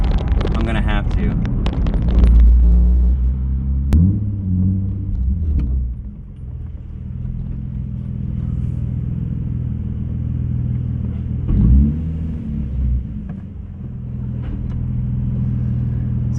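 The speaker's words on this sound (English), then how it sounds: "I think the Flashark Y pipe sounds pretty good." A car with a Flashark Racing Y-pipe exhaust rumbles at idle, a deep steady burble with a brief rev near the start and a small blip later, heard from inside a garage with someone talking over it.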